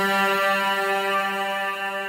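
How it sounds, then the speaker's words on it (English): A sustained synthesizer pad, voiced in a higher octave for an atmospheric production, holds a steady harmonic chord with a dense stack of tones throughout, alone and without talk. "like a sound like this would be more of a pad sound"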